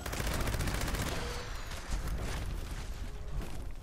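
Gauss minigun with explosive damage firing continuously in Fallout 76, a dense, unbroken roar of rapid automatic fire and blasts that stays loud throughout.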